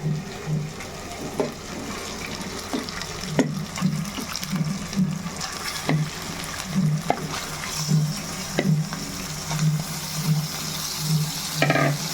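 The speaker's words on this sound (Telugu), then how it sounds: "ఇప్పుడు ఈ చికెన్ అనేది దీంట్లో వేసేసుకుందాం." Chicken frying in a pan of masala with egg curry ingredients, stirred repeatedly: a steady moderate sizzle under regular scraping strokes of a spoon against the pan, with no voices.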